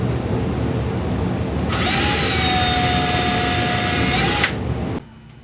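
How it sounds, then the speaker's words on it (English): A high-pitched power drill whines steadily for a few seconds, drilling holes in a 1:200 scale RMS Titanic model over a constant background hum, then cuts off abruptly. "we're going to go ahead and drill some holes here to get it started"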